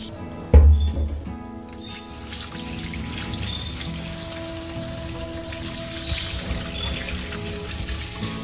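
Dates being washed in water in a home kitchen, a steady running-water patter with a sharp splash near the start, continuing evenly throughout with no talk.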